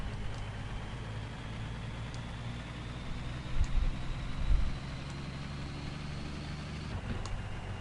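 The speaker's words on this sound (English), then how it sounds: "I really hope y'all can hear the engine rev up." Idling truck engine in the Hard Truck 18 Wheels of Steel driving game, a steady low rumble that swells briefly twice as it revs, then settles back to a constant drone.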